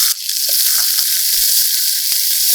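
Chopped onion sizzles in hot oil for a Bengali spicy fish curry, a steady loud hiss with small crackles and pops scattered throughout, close to the pan and without talk.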